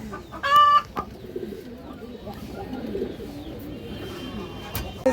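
Pigeons cooing in a home loft of old-line birds, a soft, rolling murmur of coos through the stretch, with a sharper burst of birdcall near the start and little talk.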